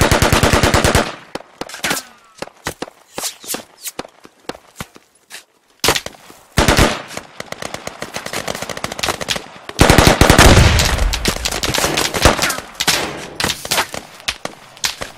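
Squad, a military shooter game, sends loud bursts of automatic gunfire in rapid rattling volleys with short gaps, then a sustained heavy stretch of fire and blasts toward the end.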